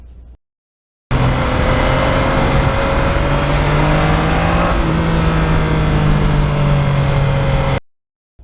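A 2020 Yamaha MT-09 naked motorcycle with a low-end torque tuned exhaust, heard as a steady, loud engine drone that holds through a ride, with a slight shift in pitch midway and no talk.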